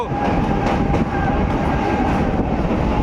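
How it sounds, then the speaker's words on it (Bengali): A train crosses the Nasipur rail bridge over the Bhagirathi on the Krishnanagar–Azimganj line toward Murshidabad Junction, its loud, close, continuous rumble and rhythmic wheel clatter rolling steadily on. "সেই ব্রিজ থেকে সোজা এখন এই মুহূর্তে ট্রেন যাচ্ছে মুর্শিদাবাদ জংশন রেল স্টেশনের পথে"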